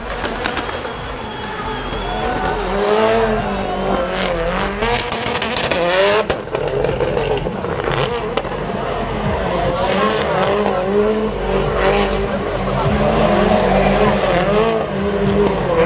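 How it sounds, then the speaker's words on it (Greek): Rally car driven by Petter Solberg in a gymkhana event at Marathonas in 2016, with a continuous roaring, revving engine and repeated tire squeals throughout, under commentators talking. "είναι φοβερή η οδήγηση του Σόλμπεργκ"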